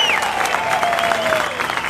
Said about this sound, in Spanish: Vamos a aplaudir esta tarde aquí a los nuestros.